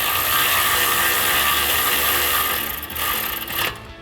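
Ratchet fitted with a 10mm socket working on brake line bolts of a 2014-2020 Ford F-150 during a suspension lift, a loud, dense clicking ratchet sound close up that stops abruptly near the end.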